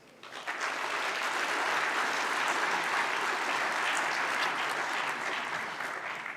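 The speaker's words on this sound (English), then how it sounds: "more than deserving of a round of applause" A conference audience at an anniversary event gives a sustained round of applause, a dense steady wash of many hands clapping that swells in quickly and holds evenly before easing slightly at the end.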